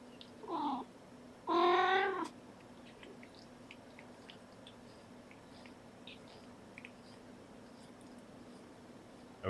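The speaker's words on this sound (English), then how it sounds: "Most vocal, like mama cat I've ever witnessed" A very vocal mother cat, one of the feral and stray cats fed outdoors in Long Beach, California, gives two loud meows close by, the second long and drawn out, then falls quiet against faint background noise.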